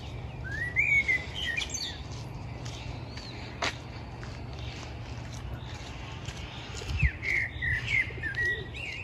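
Birds chirp and trill intermittently over a low background hum in a flowering spot in Kyiv, with bursts of song near the start and again toward the end.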